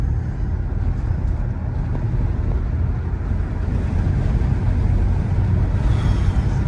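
A Chevrolet Traverse coasts off the gas through a corner on a Porter Mountain road, giving a steady, close low rumble of engine and tyres with wind noise throughout and no voices.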